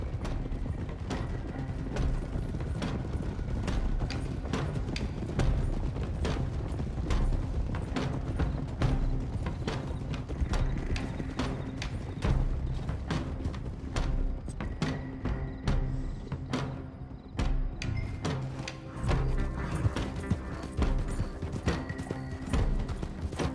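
Horses ridden up at a steady pace in the Red Dead Redemption 2 video game, hooves clip-clopping continuously alongside faint mechanical rattles, with an occasional whinny and no voices.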